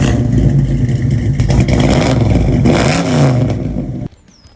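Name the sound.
car engine started and revving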